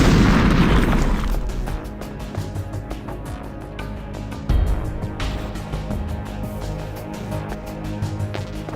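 A grenade explodes in Metal Gear Solid: The Twin Snakes, with a loud, close opening boom whose rumble slowly decays under tense game music. A second, smaller thud hits midway through.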